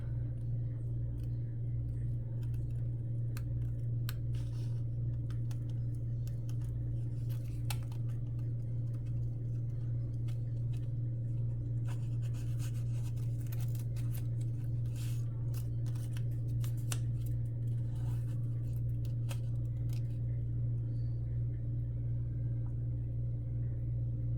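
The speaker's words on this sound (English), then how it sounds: "So because they're circles, I'm going to use my scissors." Quiet snipping and crinkling of scissors cutting circles from a thin clear plastic sheet, irregular small cuts over a steady low hum, no talking.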